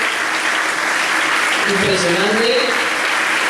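An audience applauds a demonstration at the Noite da Industria 2017 gala, a steady broad patter of clapping running beneath a speaking voice.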